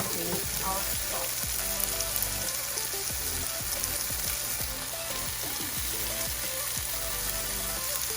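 Spices frying in a hot pan for an eggplant, tomato and spinach sauce give off a steady, crackling sizzle with scattered pops, close and continuous throughout, with no talking.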